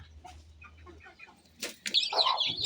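Chickens stir in a backyard coop, a few soft clucks giving way to a burst of flapping wings and scuffling near the end, fairly faint and close.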